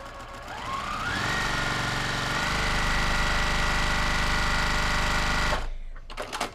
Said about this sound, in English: So I'm going to stitch with a 1/4 inch seam.